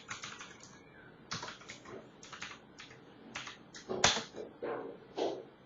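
Fingers type on a computer keyboard while code is entered in R, giving close, crisp bursts of keystrokes in irregular clusters with short pauses between, and no voices.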